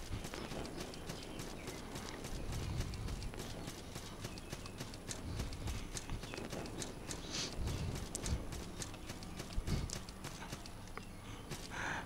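Horse hooves clip-clop in the video game Salt and Sanctuary, a faint, steady run of hoof beats over a noisy background that keeps going the whole time.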